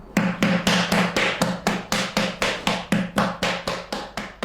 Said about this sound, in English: we will hit it with a wooden paddle to smooth it